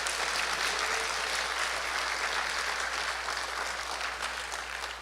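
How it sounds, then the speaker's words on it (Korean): A church congregation applauds during a sermon, a dense, sustained crowd clapping that holds steady and then begins to thin slightly toward the end. "박수."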